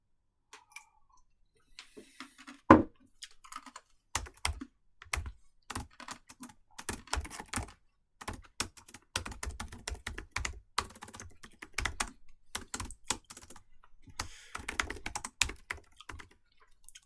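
Close, quick keystrokes on a computer keyboard come in irregular bursts and short pauses as a values worksheet is written up, crisp clicks with no talking.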